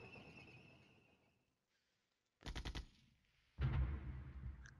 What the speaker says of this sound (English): he's tossing his artillery around